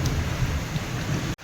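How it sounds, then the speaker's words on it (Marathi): Heavy unseasonal rain pours during a thunderstorm outside a rural home: a dense, close, steady wash with a low rumble underneath, cut off briefly near the end. "फायनली पाऊस चालू झालेला आहे आमच्याकडे"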